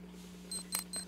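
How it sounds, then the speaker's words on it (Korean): A pager in the Last Window video game gives three short, high electronic beeps in quick succession over a low steady hum, with no talking. "포켓벨이다."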